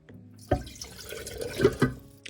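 Tap water running into a pot or kettle to be boiled in a home kitchen, heard as a close, splashy stream with a few sharper drips and clunks, no talking.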